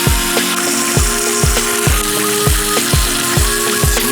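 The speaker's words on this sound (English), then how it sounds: "I got this pan just searing hot" Pork chops sear in a very hot pan on a grill, giving a loud, close, steady sizzle with regular rhythmic thumps repeating about every half second throughout.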